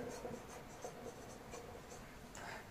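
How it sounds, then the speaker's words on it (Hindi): A marker or chalk writes by hand on a board during a physics lecture, faint scratchy strokes in short bursts with brief pauses, quiet and close, with no speech over it. "हेंस मैं लिख दे रहा हूं यहां पे"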